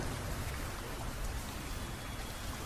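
Heavy rain pours steadily on a stormy night, a dense, even roar of drops with no pauses or voices.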